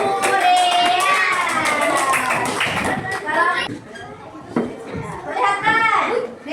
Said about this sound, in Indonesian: Tepuk tangan untuk kelompok buah durian.